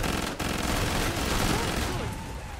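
Video game gunfire in Killing Floor 2, on Hell on Earth difficulty, sounds as a loud, continuous, dense barrage of overlapping automatic shots with a brief dip near the start.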